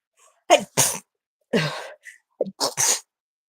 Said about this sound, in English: I have a sneeze right on the edge of it